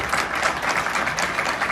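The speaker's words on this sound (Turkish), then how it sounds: "bir alkışlayalım onlara" An audience at an award ceremony breaks into sustained applause, dense, even clapping filling the room for the whole stretch.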